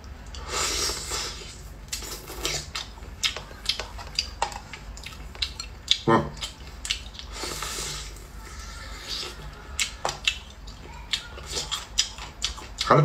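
Crunchy seafood such as shrimp, snails, crab, scallop and octopus being chewed close to the mic in a mukbang, with irregular crisp crunches, clicks of dishes and cutlery, and breathing.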